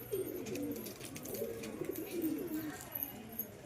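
A pair of pigeons, a male and a female, coo softly in low repeated phrases just before being set free from a rooftop in a village, with faint outdoor noise and occasional chirps around them.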